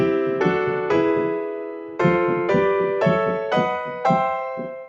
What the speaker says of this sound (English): I would literally get a major triad on every single scale degree.